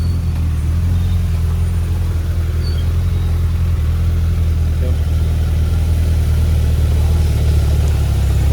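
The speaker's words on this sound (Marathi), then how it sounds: "लोणावळ्यामध्ये खूप ट्रॅफिक आहे, बघू शकतो ट्रॅफिक आहे" Traffic in Lonavala sits as a continuous low engine drone of idling cars and heavier vehicles, with occasional faint revs and quiet voices under the steady hum.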